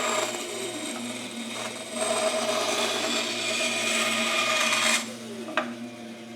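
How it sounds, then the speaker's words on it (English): A bandsaw cuts through wood during an ax head repair, giving a steady rasping whine with a surge in the middle of the cut and a brief knock near the end, with no talking. "And I'll just cut this off on my bandsaw."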